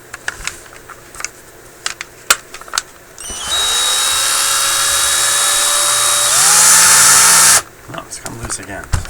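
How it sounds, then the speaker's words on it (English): An electric drill runs in reverse for about four seconds, a loud, close whine that starts abruptly, steps up in pitch partway through, then stops, with clicks and handling noise before and after. "If I made my drill turn the other way, then it wouldn't come loose."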